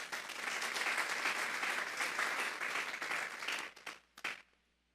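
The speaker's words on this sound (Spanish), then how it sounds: "Vamos a darle un fuerte aplauso pues al Espíritu Santo." A congregation at a church service claps in a dense, sustained round of applause that holds steady, then quickly dies away into a few last scattered claps and silence.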